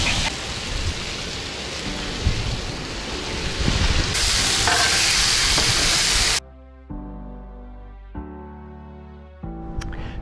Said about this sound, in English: We're making a little Chinese stir fry here on the Blackstone.